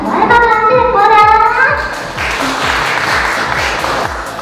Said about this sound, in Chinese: 用热烈的掌声欢迎我们的小爱爸爸谢国良。